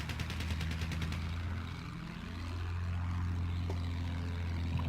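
Propeller warplane droning steadily in a Battlefield 1 match, a loud continuous engine hum that swells and shifts pitch as it passes, with scattered gunfire crackling early on.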